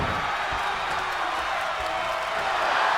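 A wrestling arena crowd in WWE 2K24 roars and cheers, a broad, steady crowd din with scattered whoops and claps, loud and continuous under faint traces of voice.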